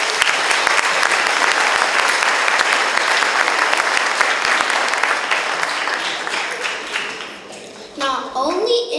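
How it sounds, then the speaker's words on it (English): An audience at a fourth grade spring chorus concert applauds for the piano accompanist, with dense, sustained clapping that tapers off near the end as voices emerge. "Please welcome and give a round of applause to Miss Maureen Tanaka, our piano accompanis"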